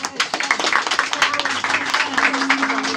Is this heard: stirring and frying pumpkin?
no